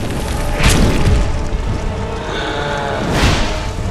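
Two heavy booming impacts about two and a half seconds apart, each with a whooshing swell, as a giant boss stomps nearby over a low rumble in Dark Souls II: Scholar of the First Sin.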